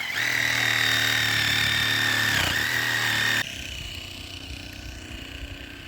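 Battery-powered Sawzall reciprocating saw cutting through a pipe outdoors near a spring water supply, a loud, steady buzzing drone for about three and a half seconds before it cuts off, leaving quieter background rumble.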